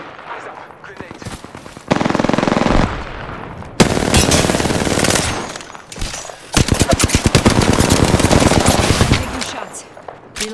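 Gunfire from the video game Apex Legends, with loud bursts of rapid automatic shots in dense rhythmic runs and some single cracks, broken by short gaps, all close and loud, with a voice speaking at times.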